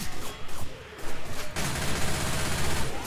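In Left 4 Dead 2, an inaccurate automatic gun sprays bullets in rapid bursts, then one sustained stretch of dense gunfire, loud and close.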